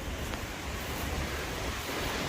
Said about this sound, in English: Super windy today.